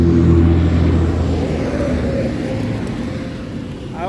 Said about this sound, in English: I always catch those loud trucks just as I'm getting ready to start